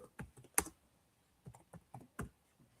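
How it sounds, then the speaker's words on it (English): Computer keyboard typing in short, uneven bursts of clicks and key presses, fairly close and alone with no talking, spread over a few seconds. "Let's type up a quick banner."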